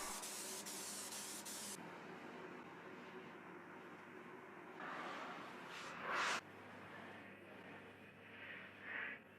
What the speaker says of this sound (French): J'ai acheté de la colle contact en spray et je peux l'utiliser pour coller la mousse.